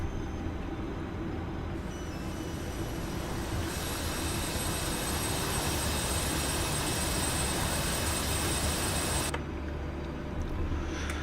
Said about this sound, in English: We're loaded down with munitions. We're almost full throttle just a taxi.